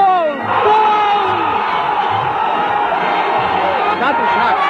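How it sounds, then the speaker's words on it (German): A packed football stadium crowd in Bremen roars in loud, sustained cheering just after a goal for SV Werder Bremen. "Ohrenbetäubender Jubel, das hat Bremen noch nicht erlebt"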